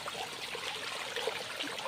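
Water from a small stream trickles along a tribal village road, a faint, steady babbling flow with no voices.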